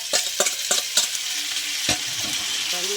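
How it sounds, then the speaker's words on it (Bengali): Mashed banana blossom and mung dal being stirred in a pan, with several scraping strokes of a spatula over a soft background sizzle and a few clinks. "আমি ভালো করে একটু নেড়ে নেব।"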